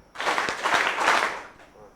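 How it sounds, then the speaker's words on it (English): A room of people clapping together on cue for a group exercise at a talk, a broad burst of claps with a few stronger accents, fading at the end rather than landing as one crisp beat. "we'll say wonder clap and you do a wonder clap"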